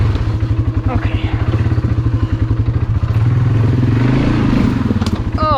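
A four-wheel-drive ATV on a wooded trail, trying to bump its tire up over an obstacle. The engine chugs loud and close with a steady low throb, and clatter and thumps ring out from the trail.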